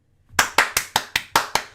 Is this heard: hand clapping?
yes